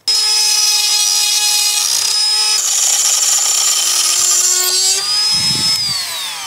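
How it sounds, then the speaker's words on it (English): A Dremel multi-tool grinds away a metal bar blocking a deadbolt latch, giving a loud, continuous high whine close by. The pitch shifts as the cut proceeds and slowly tapers off near the end. "I'm going to remove that with my Dremel multi-tool."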